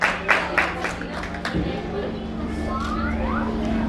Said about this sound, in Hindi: जोरदार तालियां एक बार महाराष्ट्र न्यूज 24 के लिए।